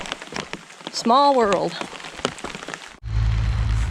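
Rain falls on a hiking trail on the Appalachian Trail near Mount Rogers, a steady close hiss that sets in abruptly after a short stretch of talking.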